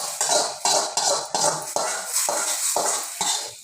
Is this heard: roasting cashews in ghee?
yes